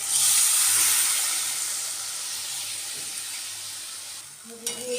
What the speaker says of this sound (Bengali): চাটনিটা ফুটছে গরম জলটা অ্যাড করে দিয়ে